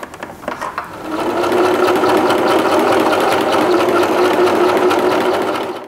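A sewing machine stitches a custom seat cover for a converted van, starting with a few short bursts and then settling into a loud, close, continuous whirring run that holds steady to the end.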